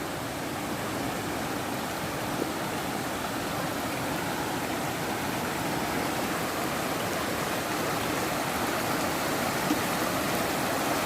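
Pong Nam Dang waterfall in Doi Pha Hom Pok National Park, Chiang Mai, Thailand, pours with a steady, loud broadband rush of water that stays even and unbroken, with no voices heard.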